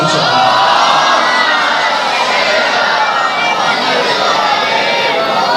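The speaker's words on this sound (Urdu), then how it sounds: "کوشش کرو صلوات سارے پڑھو" A mosque congregation recites salawat aloud in unison, a dense sustained roar of many voices that holds steady throughout.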